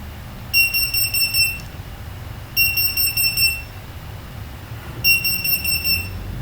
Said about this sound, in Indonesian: Maka nanti akan berbunyi buzzernya.